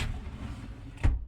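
A sliding cabinet shelf glides in along its track with a steady rolling rumble, ending in a short thump as it stops.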